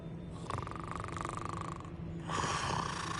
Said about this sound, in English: Something snoring?